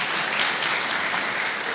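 Applause for CPA Njiru at a Mageraza DT Sacco delegates' education meeting, a dense steady wash of many hands clapping, loud and close for the whole moment, with no voices over it.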